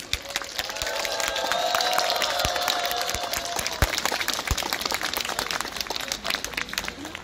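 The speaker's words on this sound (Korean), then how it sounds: "박수 한번 다시" An audience at a Buddha's Birthday lantern-tower lighting ceremony in Eunpyeong breaks into sustained applause, dense clapping filling the space with a few voices and cheers mixed in.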